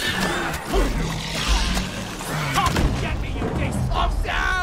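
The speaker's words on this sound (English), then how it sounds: "Just hit him with a pickaxe and he'll explode" Explosive bursts and crashes sound in a video game as a boombug blows up after a pickaxe hit, loud and busy with layered effects, while players talk over the action.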